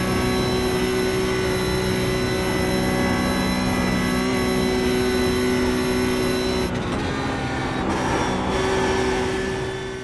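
Porsche 911 GT3 Cup (992) race car engine in the iRacing simulator, a steady sustained drone with constant pitch tones, loud and continuous with a slight shift partway through.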